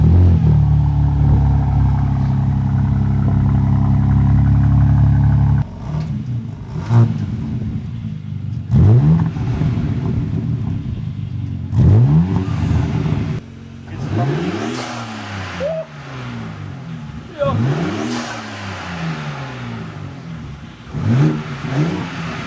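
BMW M3 Competition with an aftermarket exhaust, single mid pipe and carbon tips: a steady loud idle drone, then a series of sharp throttle blips rising and falling, each revving close and loud, with no talking.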